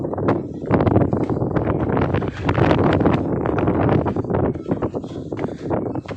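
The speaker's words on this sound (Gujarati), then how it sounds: "જેમ માથે ચડતા જાય એમ પવન વધતો જાય" Strong, continuous wind gusts buffet the microphone on a forest hill path at Devaliya Park, roaring and fluctuating loudly throughout.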